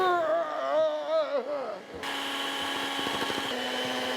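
An electric mixer runs through vegan chocolate chip cookie dough in a bowl. A voice talks for the first two seconds, then the motor settles into a steady, fairly loud whirring drone.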